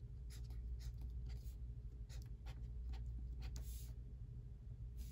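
Black marker squeaking and scratching across paper as letters are written, a series of short strokes over a steady low background hum, with no talking.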